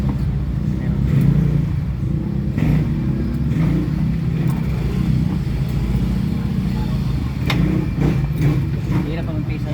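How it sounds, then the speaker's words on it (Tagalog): A hard-starting motorcycle cranks and revs, its engine noise rising and falling in uneven bursts, close by and loud, while people talk over it. "Hirap pa mag-pisa yung motor."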